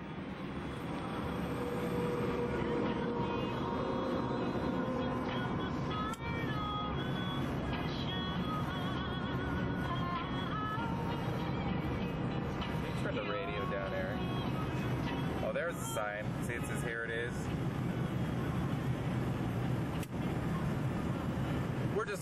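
A car drives along Route 66 in Arizona with a steady, continuous road and engine rumble and wind noise all the way through, while people talk inside.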